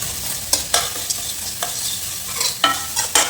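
Chopped onions with rock salt stirred in a hot pan for chicken gravy, a soft steady sizzle broken by sharp spoon scrapes and clatters at irregular intervals.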